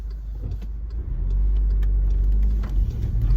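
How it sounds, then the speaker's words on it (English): A car passes by, its low engine rumble swelling in the middle and fading, with no talk. "one more car."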